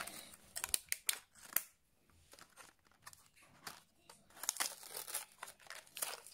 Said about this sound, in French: je vais prendre la carte ciseaux, ça va aller plus vite